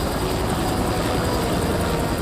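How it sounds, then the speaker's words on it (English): Helicopter flying in the TV show Smallville makes a steady, loud rotor rumble that continues throughout, with no talking over it. "Oh, the helicopter's back."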